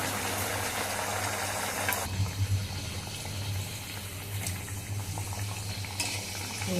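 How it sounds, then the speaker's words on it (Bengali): Suji and potato pockets fry in oil over a low flame, two at a time, giving a soft continuous bubbling sizzle close by, with a brief louder clatter early on and no voices. "হ্যাঁ, আমি এরকম দুটো দুটো করে ভেজে নেব।"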